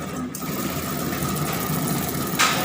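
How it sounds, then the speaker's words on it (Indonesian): A Honda Vario Techno 125 fuel-injected engine on a training simulator runs with a steady low mechanical hum and a faint whine, fairly quiet, with a brief burst of noise near the end. "Kunci kontak di-on-kan. Kemudian kita coba starter."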